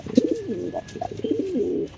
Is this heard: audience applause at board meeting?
no